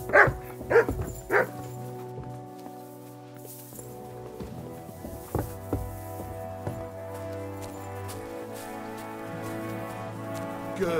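A dog barks in Kingdom Come: Deliverance 2, three sharp barks at the start over steady music and ambient game sound.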